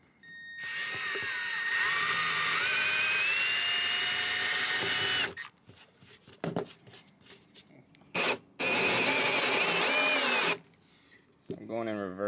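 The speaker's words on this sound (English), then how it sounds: "So I'm going to drill a pilot hole at my mark." Power drill boring a pilot hole into a van, a loud sustained whine for several seconds, then short bursts and a second long run, close up with some handling noise.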